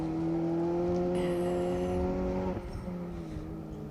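Rally car on the final stage of a rally, engine holding a steady high drone, then dropping in pitch as it passes close by, loud and alone.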